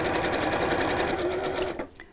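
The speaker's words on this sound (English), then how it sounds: "Then I'm going to sew straight across that line." A sewing machine stitches straight across a seam line on a fabric cosmetic bag with handles, running as a steady, close mechanical whir that stops near the end.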